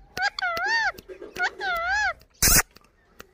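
An Indian parrot imitates a cat's meow in several close, clear wavering calls, followed by a short sharp burst like a sneeze.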